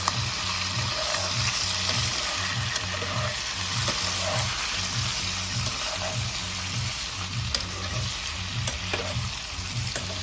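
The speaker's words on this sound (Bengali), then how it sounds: "এই যে এখানে মাংসটা ভাজা হয়ে গেছে" Meat with a little turmeric and salt fries in a pan over a low flame: a continuous loud sizzle with a regular, rhythmic stirring pulse underneath, close by and steady throughout.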